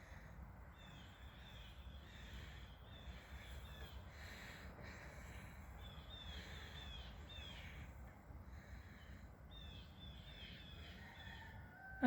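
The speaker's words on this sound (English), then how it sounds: "I hear the birds, but I don't see them." Birds call outdoors on a countryside walk, with faint, scattered caws and chirps over a quiet, breezy background.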